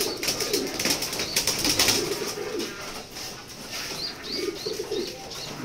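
Racing pigeons: soft, low cooing phrases come and go among faint chirps and rustling, close by and with no talking.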